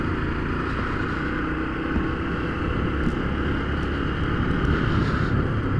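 A Fan 150 motorcycle engine runs steadily nearby with a constant droning hum and no changes in pitch or rhythm.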